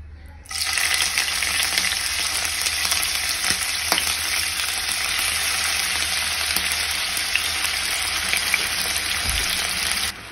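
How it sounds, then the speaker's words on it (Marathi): Prawns dropped into hot oil for Malvani prawn rice give a loud, steady sizzle that starts abruptly and holds without a break, with occasional faint clinks. "गरम तेलात कोळंबी सोडून घेतलं आहे."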